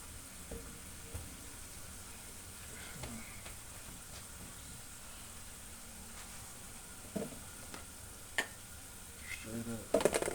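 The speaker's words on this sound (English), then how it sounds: "we're gonna add a little of this garlic paste" Garlic paste sizzles quietly in a hot pan, a soft continuous frying hiss with occasional stirring clicks and a louder clatter of utensils at the end.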